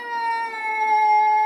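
Studio cats howl in a sustained, steady, tonal wail that holds one pitch with rich harmonics throughout a brief stretch.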